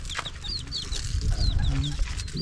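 Several chickens cluck and chirp close by in short repeated calls, over low rumbling background noise.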